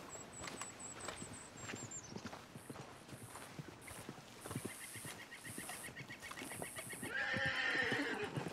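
Hooves clip-clop in a steady walking rhythm while a horse lets out a high whinny near the end, set in a western cowboy video game, with other faint game sounds in the background.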